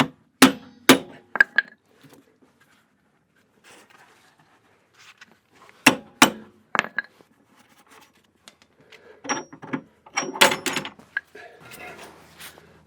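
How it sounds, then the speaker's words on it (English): Hammer blows pound at a front bolt on a trailer leaf spring during a suspension upgrade, sharp metallic strikes in short clusters separated by pauses, close by, with a brief voice near the end. "this front one is the one that I said would need to be pounded out"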